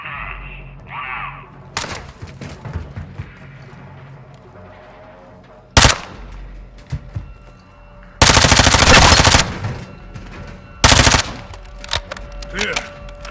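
Automatic gunfire and loud shot bursts from Call of Duty: Modern Warfare II, with two long sustained volleys and several sharp single blasts over quieter combat ambience and faint voices.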